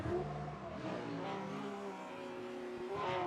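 Race cars, a Porsche 718 and a BMW 1M, pull away in a Pro-Am competition at GRS Bihoku, engines revving faintly and at a distance in a brief burst.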